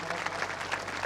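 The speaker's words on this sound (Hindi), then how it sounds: "एक बार ताली बजा के अभिनंदन करें," Audience applause at a Devasi community speech event in Sirohi, a steady dense patter of many hands clapping throughout with crowd noise.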